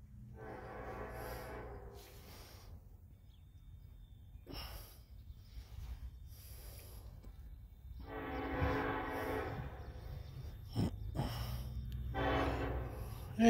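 A Norfolk Southern NS26C intermodal freight train heading north on track one past the Millsdale Avenue crossing, its horn blasting in several loud bursts over a steady low rumble of rail cars.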